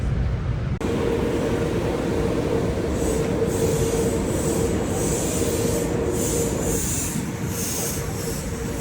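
A commuter train rolls toward New York City, with a steady rumble, wheel and rail noise, and a faint high squeal, heard from inside the car with no talking.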